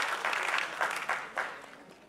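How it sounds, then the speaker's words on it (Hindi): An audience at a live music fundraiser for earthquake victims gives a brief burst of clapping, fairly close and uneven, that tapers off quickly. "जोरदार तालियां हो जाए दोस्तों."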